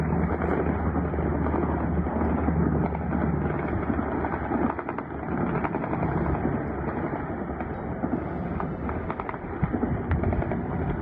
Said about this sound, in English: Watch terrified Russians blast at mystery rumbling UFO helicopter.